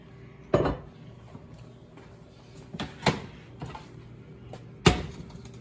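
A metal pot is handled in a kitchen while preparing to blanch artichokes, giving three distinct clanks and knocks of metal with softer shuffling between them, close by and otherwise quiet.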